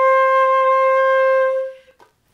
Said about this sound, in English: So this is what C sounds like.